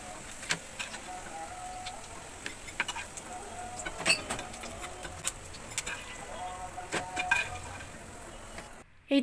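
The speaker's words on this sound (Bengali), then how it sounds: "কড়াইতে তেল গরম হয়ে গেছে। একে একে সবগুলা পেঁয়াজি দিয়ে দিব।" Cabbage-and-onion fritters (piyaji) sizzle in hot oil in a wok, a quiet steady frying hiss scattered with small crackles and clicks. There is no talk, and a brief knock comes at the very end.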